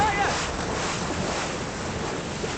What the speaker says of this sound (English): These boats can nosedive now as they go down these waves